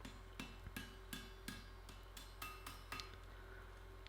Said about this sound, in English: Now you can see I'm tapping this quite carefully.